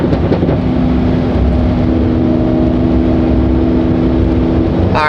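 A BMW Valvetronic engine warming up, running with a loud, steady drone and a faint rev at the very end.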